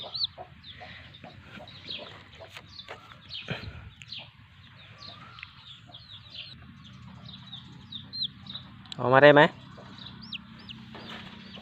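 A small chick, stuck and unable to get out, peeps and chirps faintly in a quiet space, with a person speaking softly nearby and a brief rustling thump.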